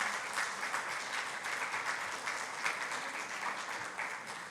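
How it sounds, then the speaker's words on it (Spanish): A church congregation breaks into steady, dense applause after a call to clap for the Lord, many hands clapping evenly throughout, moderately near and filling the room without voices on top. "Denle un aplauso al Señor"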